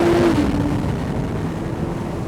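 A Porsche 911 997.2 Carrera 4S with a dual-clutch gearbox drops quickly from sixth gear to a lower one. A brief rising engine note blips at the start, then settles into a loud, close, continuous engine roar.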